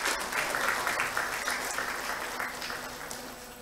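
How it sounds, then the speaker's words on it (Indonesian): Audience at a national seminar on halal tourism in Aceh, Indonesia applauds steadily, a moderate wash of many hands clapping that holds for a few seconds and slowly thins, with no voices over it. "Berikan tepuk tangan untuk kita semua"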